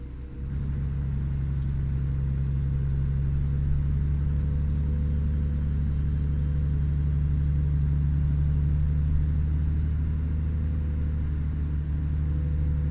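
Mack Cruiseliner truck engine in the American Truck Simulator game, a steady low diesel drone held at modest revs with no changes in pitch, loud and continuous throughout.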